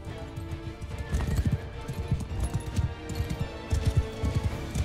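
Horse hooves clip-clop in a busy rhythm while a horse whinnies in the video game Mount and Blade II: Bannerlord, all under a steady background hum.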